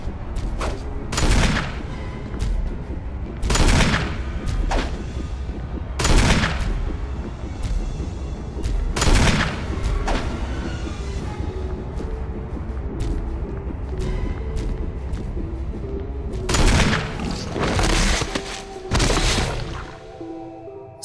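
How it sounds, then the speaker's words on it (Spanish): Magnum revolver shots in the Resident Evil remake (2002 game), five heavy booming blasts spaced a few seconds apart over a dense rumbling game soundtrack. "5 tiros de Magnum."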